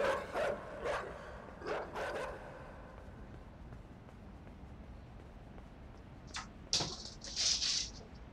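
Dogs in the video game Inside bark and yip in short bursts, a few sharp barks early, then quieter stretches, with more distant barking and yelps toward the end.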